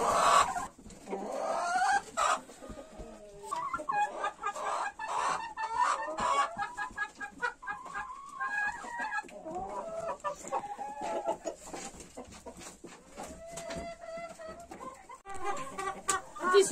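Hens cluck and squawk inside a chicken coop with built-in cells, a busy mix of close overlapping calls and occasional louder cries throughout.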